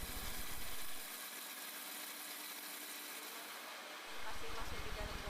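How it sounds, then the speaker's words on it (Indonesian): A charcoal briquette moulding machine, pressing a dough of charcoal, tapioca flour and water, runs with a steady mechanical hum and hiss; its low rumble drops away midway, then returns, all at a fairly faint level. "Seluruh proses pencetakan semuanya dilakukan menggunakan mesin berjalan ini."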